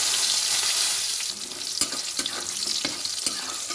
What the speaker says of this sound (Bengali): এই তেলে আমি কটা বড়ি ভেজে নেব।